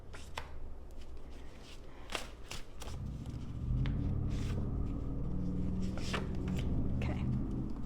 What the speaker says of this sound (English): I'm going to shuffle a bunch of them out